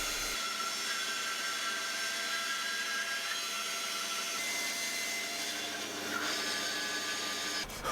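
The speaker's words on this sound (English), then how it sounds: "then I cut the design out using the bandsaw" A bandsaw cuts a wooden design for a homemade Christmas gift, producing a continuous, even whirring drone that holds steady throughout with no pauses.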